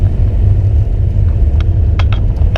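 A BMW E36 325 TDS diesel car gives a loud, steady low engine rumble as it accelerates, with a few brief higher clicks and rattles near the end.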